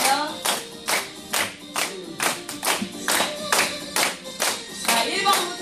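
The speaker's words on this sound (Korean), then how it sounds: "박수." Group of older adults clapping in unison during a recreation session at a senior welfare center, about a dozen sharp, rhythmic bursts at a regular beat, close and lively, with faint voices between the claps.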